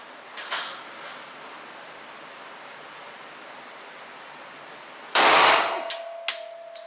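Gunshots at an outdoor gun range: a faint distant crack early on, then one loud sharp blast near the end with a ringing clang afterward, over steady background noise.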